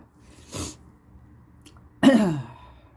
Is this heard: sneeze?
yes